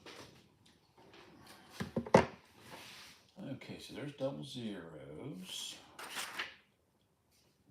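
A desk drawer slides and bumps with a few wooden knocks and thunks, mixed with a man's speech in a quiet room.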